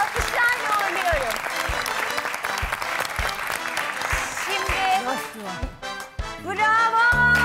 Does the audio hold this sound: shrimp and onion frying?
no